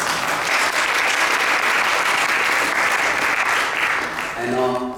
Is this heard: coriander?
no